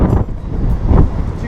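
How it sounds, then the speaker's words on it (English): Strong wind on the deck of the Norwegian Epic cruise ship, a brief loud rumbling buffet against the microphone with uneven gusts, no talk. "As you can see, it's pretty windy."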